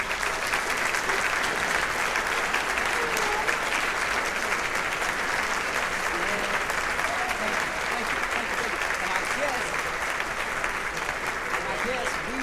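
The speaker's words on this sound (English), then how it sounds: "Give her another round of applause." Sustained, dense applause from a crowd, steady and loud for the whole stretch, with occasional voices faintly mixed underneath.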